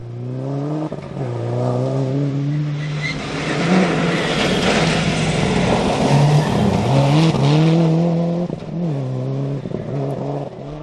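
A Group N Subaru rally car at the Cambrian Rally drives past, its engine revving hard through several gear changes with rising and falling pitch, loud and close, rumbling throughout.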